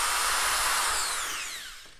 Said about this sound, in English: I just mount it in the drill. I stick it all the way in the drill and mount it, and just make sure that it's running true.